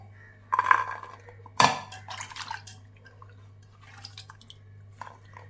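Turkey berries are rinsed lightly in a vessel of water, giving soft splashes and sloshing with a couple of sharper knocks against the pot. The sounds come and go quietly over a low steady hum.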